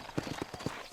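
Hooves clip-clop at a trot in a video game, a few quick, close hoofbeats in an uneven rhythm during one short moment.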